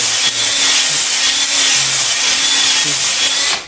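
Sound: ball hone brush spinning in engine cylinder bore

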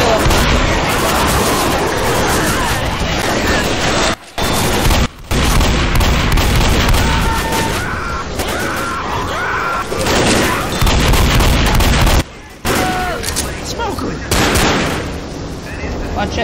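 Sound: gunfire in the video game Left 4 Dead

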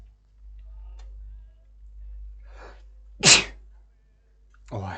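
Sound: sneeze

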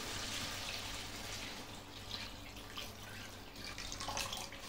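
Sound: pouring water into a cooking pot

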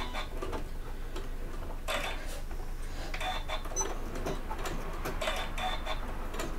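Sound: sewing machine reverse stitching

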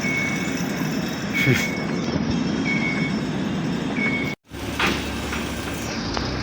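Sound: railway station in Malaysia with train

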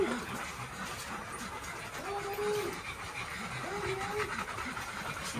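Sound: rescue puppy whimpering

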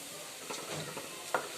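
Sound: peanuts and tempering spices frying in oil

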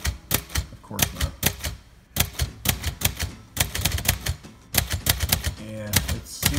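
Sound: typing on a 1958 Royal Quiet de Luxe typewriter

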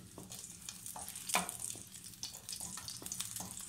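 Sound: garlic cloves frying in olive oil in a pan

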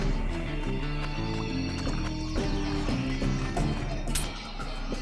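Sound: horse hooves and neighing in the video game Six Guns

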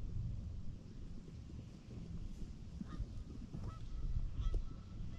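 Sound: geese honking in a field during an early season hunt

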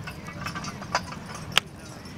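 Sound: horses' hooves clip-clopping at a horse pull

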